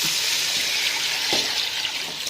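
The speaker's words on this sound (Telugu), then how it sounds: "ఇప్పుడు నేను వాటర్ వేసుకుంటున్నాను ఫ్రెండ్స్ చూడండి ఒక్క కేజీ బియ్యం" Water is poured over one kilogram of rice for chicken wing pulao, a close, steady splashing rush lasting a couple of seconds with a few small knocks.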